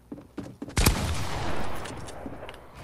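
A short burst of gunshots in a Fortnite match, one sharp loud crack followed by a ringing tail and a few softer shots around it, fairly close, with no talk.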